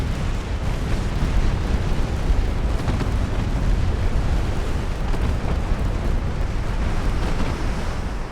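Torpedo striking a warship in the naval game Ultimate Admiral Dreadnoughts: a dense, sustained rumbling blast roar that holds steady and loud throughout, with no distinct separate bangs.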